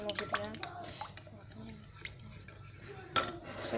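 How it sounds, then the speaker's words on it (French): Utensil clinks and soft scraping come from icing-sugar batter being mixed in a bowl, faint and close, with a sharper knock near the end while a person talks over it. "Je mélange bien, très bien."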